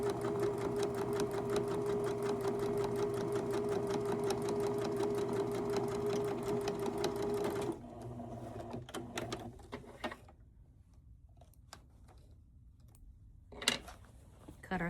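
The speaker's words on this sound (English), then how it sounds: "The machine is going to move the fabric for you." A sewing machine runs steadily while hemming a pants leg, the fabric feeding under the needle in a fast, even whir for about eight seconds, then stops, leaving a few light clicks and handling noises.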